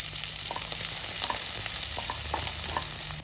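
Chopped onions sauté in oil in a pan for a chicken rice dish, giving a steady close sizzle broken by soft, irregular scrapes and taps from stirring.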